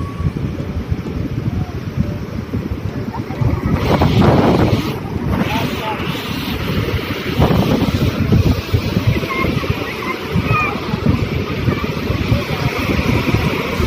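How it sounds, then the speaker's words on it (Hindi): Rough wind buffets the microphone over a steady wash of big ocean waves at Versova beach, Mumbai, with a louder surge of surf partway through. "बाप रे बड़ी बड़ी लहरें आ रही"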